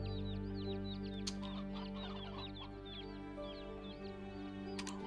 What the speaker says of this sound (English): Oh, it's chicken.